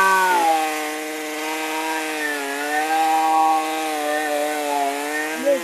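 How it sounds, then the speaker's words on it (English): A small STIHL MS193T gas chainsaw fitted with a brand new STIHL chain runs steadily at high idle, a loud buzzing engine drone with slight pitch wobble, alone without talk. "STIHL chain on the STIHL gas powered chainsaw"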